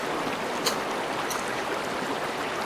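A river flows at an off-grid spot in St. Elizabeth, Jamaica, giving a steady broadband wash of running water with a couple of faint brief clicks and no talk.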